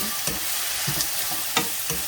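Oil sizzles steadily in a pan as ginger is stir-fried for ginger chicken, a utensil scraping and stirring in four or five sharp strokes, close and fairly loud, with no voices.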